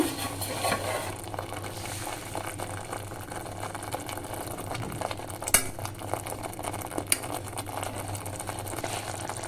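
Curd is stirred into mushroom curry simmering in a pan, a continuous moderate sizzle and bubbling with a low steady hum underneath and a couple of sharp spoon clinks, no voices.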